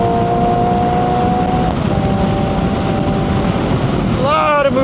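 A 2025 Hyundai Ioniq 5 N electric car speeds down a track straight, its loud, steady whine gliding in pitch over heavy wind and road rush, with synthetic tones climbing near the end.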